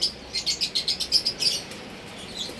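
Small birds chirp in a quick run of bright, repeated tweets, fairly faint, then trail off into quiet.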